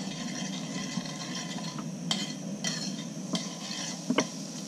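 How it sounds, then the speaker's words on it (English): Shallots cook slowly in a pan, giving a continuous close sizzle broken by a few sharp spoon or fork scrapes as they are worked around. "work the shallots around, slowly cooking them"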